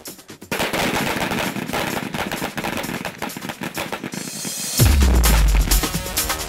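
Automatic weapons fire during military expeditionary combat weapons training, with dense rapid bursts of loud gunshots that run continuously, then a heavy deep blast or boom near the end.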